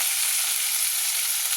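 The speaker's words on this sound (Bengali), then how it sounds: "চাপা খুলে আমি একটু উল্টে দেবো উপর পিঠটা আর একটু ভাজা হওয়ার জন্য" Rohu fish heads frying in a pan of hot oil, a steady dense sizzle with fine crackling that continues evenly throughout, close and fairly loud with no talking.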